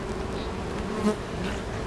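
Honeybees buzz around an open hive during a June inspection, a close, continuous droning hum with individual bees flitting louder past the microphone.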